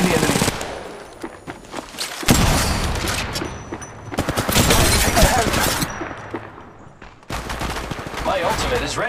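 Rapid bursts of automatic gunfire and single shots from an Apex Legends Mobile battle, loud and close, coming in dense volleys broken by short pauses, with no talk over them.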